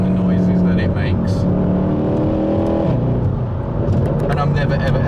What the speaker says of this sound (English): We always love this engine and the noises that it makes.